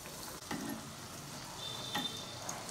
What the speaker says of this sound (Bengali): আঁচটা সিমিয়ে দিয়ে ধীরে ধীরে ভাজতে হবে